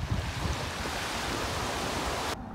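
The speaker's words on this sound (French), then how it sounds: "Il y a un petit vent mais ça va." Light wind at the seaside during a camping weekend: a steady broadband rush with low rumbling gusts, continuous and fairly quiet, cutting off abruptly near the end with no voices.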